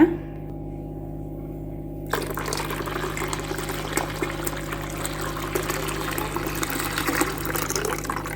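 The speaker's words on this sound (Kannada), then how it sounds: "ಇದಕ್ಕೆ ಇವಾಗ ನೀರು ಹಾಕೋಣ" Water pours steadily into a bowl of thick rice dosa batter, a continuous rushing splash after a quiet moment at the start.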